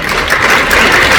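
Dense, continuous applause from an audience at a Metro State University talk on mass incarceration, loud and steady throughout a brief burst with no pauses.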